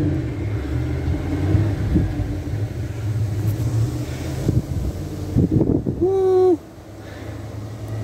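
Strong wind roars and buffets the microphone during a violent early-morning thunderstorm near Grenoble in the Alps, a steady close rumble with gusty surges and a brief tonal whine near the end.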